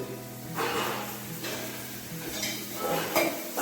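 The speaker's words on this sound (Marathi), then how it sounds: "यामधली भांडी काढायची आहेत जी कामाची नाहीत ती म्हणून एक साईडला ठेवायची आहेत" Kitchen pots and utensils are sorted and handled during a house cleaning, with clattering metal knocks and scrapes at close range coming in a few bursts, alone with no speech.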